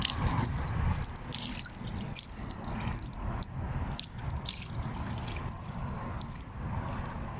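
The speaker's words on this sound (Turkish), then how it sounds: "Ve bir çeşme." A park fountain in Nakkaştepe Millet Bahçesi with water running and splashing steadily, a continuous close wash of flowing water and droplets, no speech.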